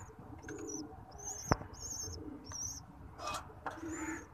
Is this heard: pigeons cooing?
yes